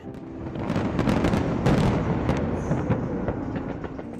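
New Year fireworks burst over a celebration beside a large building, a dense run of booming blasts and sharp cracks piling up loudly and continuously, with crowd-like rumble beneath.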